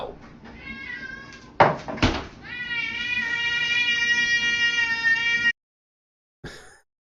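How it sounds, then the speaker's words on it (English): A house cat lets out a loud, drawn-out meow that rises and holds for a few seconds, following a couple of knocking thumps and shorter cries, then a brief final yowl after a moment of silence. "That's a loud kitty."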